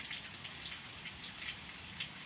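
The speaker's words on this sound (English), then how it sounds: "It's hot out here and it's raining." Rain falls outdoors on a hot day, making a faint, soft patter of scattered drops that continues steadily with no voices.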